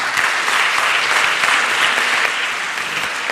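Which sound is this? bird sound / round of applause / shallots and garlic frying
round of applause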